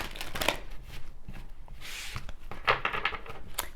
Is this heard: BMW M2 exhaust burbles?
no